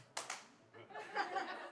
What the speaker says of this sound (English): Dino said, clap twice.